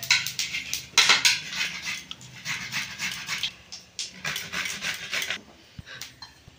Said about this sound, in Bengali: আদাটা ছাড়িয়ে গেছিলাম, আদাটা আমি ঘষে নেবো।